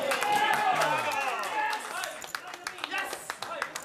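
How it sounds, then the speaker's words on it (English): Scattered clapping from spectators at a poker tournament in Prague, a brief burst of handclaps fading into sparse individual claps, heard behind commentators talking. "I think that's applause for action on one of the outer tables"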